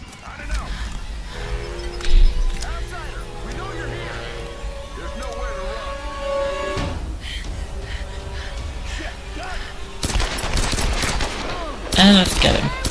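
Scattered gunshots in the Tomb Raider video game ring out amid a busy game soundscape with horse whinnies, hoofbeats and music-like tones, with a cluster of sharp shots near the end and voices talking throughout.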